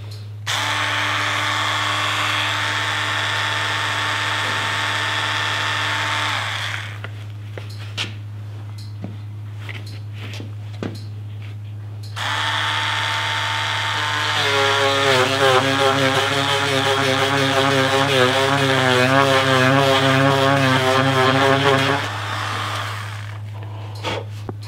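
A rotary tool bores into and enlarges the opening of a wooden canvasback duck decoy with a steady, close motor whine. It pauses midway, then resumes with a wavering, slightly strained pitch before stopping.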